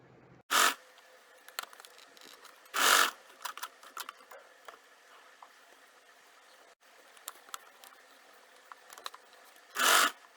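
Home sewing machine stitching a square fabric piece of a sling bag, turned wrong side out, in three short loud bursts of running stitches separated by quiet pauses with faint handling rustles.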